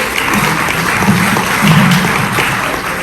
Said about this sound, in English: Can I have another round of applause for Ginger and Jenny?